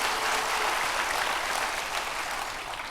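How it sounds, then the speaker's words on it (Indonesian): Congregation applauding for God during a church service, a steady dense wash of clapping that holds loud throughout and eases slightly toward the end. "Berikan tepuk tangan sekali lagi buat Tuhan."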